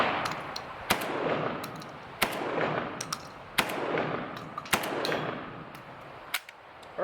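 A JTS M12 AK-pattern 12 gauge shotgun fires Federal 7.5 shot at an outdoor range, with several sharp, loud reports spaced a second or so apart against steady wind and background noise.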